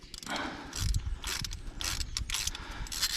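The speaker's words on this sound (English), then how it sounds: "Got our spark plug socket, 40mm CRV, 3/8 on a ratchet." A 3/8 ratchet with a spark plug socket loosens the number 4 spark plug on a Triumph Spitfire 1500, producing close, rhythmic bursts of sharp pawl clicking in repeated strokes.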